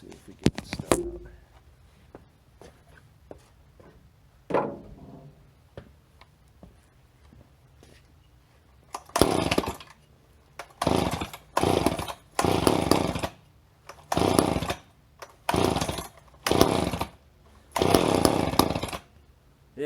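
A chainsaw with a gummed-up carburetor is pulled to start several times, then catches in a run of short, loud revving bursts that sputter and stop between them, close by. A few faint knocks and handling noises come before the first pulls.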